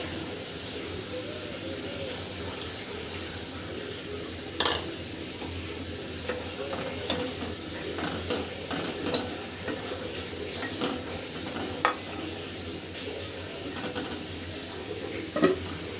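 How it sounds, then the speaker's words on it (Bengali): Fish curry broth simmering in a pot, a constant soft bubbling hiss with occasional utensil clinks against the vessel, under a voice speaking. "ঝোলটা কিন্তু খুব সুন্দরভাবে ফুটতে শুরু করেছে"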